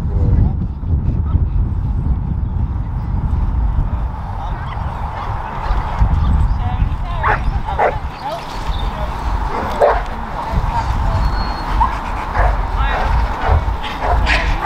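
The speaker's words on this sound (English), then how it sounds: "You got some dogs doing some training, doing some protection work." Dogs bark in bursts at an outdoor dog meet-up where XL bullies, cane corsos and pocket bullies gather and some do protection training, heard amid steady crowd chatter and voices.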